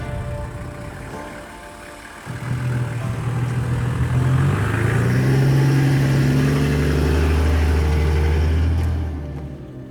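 An off-road Toyota LandCruiser Troopy, about 25 years old, drives along a bush track in winter snow. Its engine drones low and steady, swelling in strength partway through and then easing off at the end.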